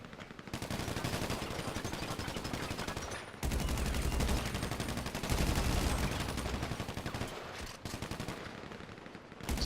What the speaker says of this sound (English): See, I'm shooting my gun